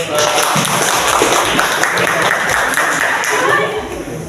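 Classroom applause from students during a micro-teaching practice session, a steady wash of many hands clapping that stays loud and dense throughout before easing slightly at the end.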